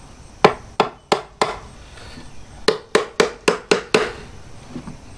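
Hammer blows drive nails into a wooden beehive honey super box: a group of four sharp, resonant knocks, a pause, then a quicker run of six evenly spaced strikes, each loud and close.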